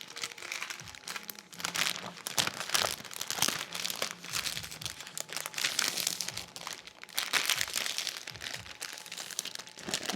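Paper crinkles and rustles in steady bursts as sheets are layered and wrapped around a handmade DIY paper flower head, close up and fairly quiet, with no talking.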